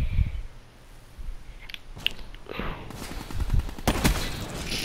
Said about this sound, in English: Yeah, somebody's shooting at me